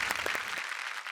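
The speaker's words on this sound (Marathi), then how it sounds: "जोरदार टाळ्या." A studio audience at a Marathi comedy TV show gives a short burst of clapping that thins out and fades within about a second.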